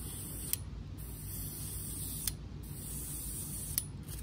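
An airbrush-style spray gun hisses in steady bursts while painting a lipless crankbait fishing lure, with a low mechanical hum underneath and a few faint clicks, close and alone without talk.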